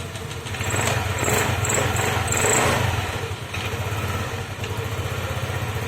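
Yamaha scooter engine runs at a steady idle after a fuel pump repair, with a rapid, even low putter that stays close and continuous throughout.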